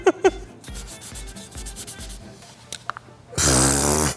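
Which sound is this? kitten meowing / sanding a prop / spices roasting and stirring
sanding a prop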